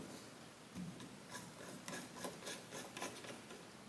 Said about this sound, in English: We can loosen up this set screw here with a Torx bit.